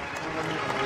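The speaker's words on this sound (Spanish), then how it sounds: "Y recibe el aplauso de todos los almerienses que están aquí" Street crowd applauding a Holy Week procession on Martes Santo in Almería, as a crucifix passes on Calle Alcalde Muñoz; a dense, steady patter of clapping fills the short stretch with a faint murmur of voices.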